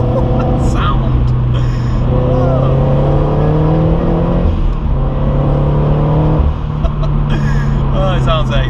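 A modified Toyota GT86 with a turbo, aftermarket exhaust and stiffer clutch revs and pulls under load, a steady droning engine note that rises and falls in pitch over several seconds, with brief voices mixed in.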